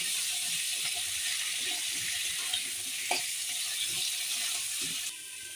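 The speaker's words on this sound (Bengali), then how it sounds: "আলুটা দিয়ে কিছুক্ষণ মশলার সঙ্গে নাড়াচাড়া করে" Potatoes stirred and fried with spices in a pan, a soft, fairly faint sizzle with occasional scraping of the spatula, steady throughout and with no voices.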